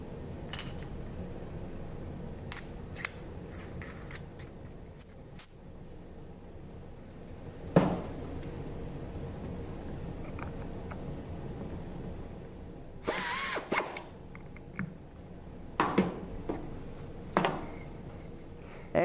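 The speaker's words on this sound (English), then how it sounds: "demonstrate how you utilize a shut-off screwdriver. We're going to do this in a cabinetry type application." Shut-off clutch screwdriver set to about 1 foot-pound of torque, driving a screw into cabinetry wood: a faint, low motor whir with a few short, sharper bursts later on, no voices.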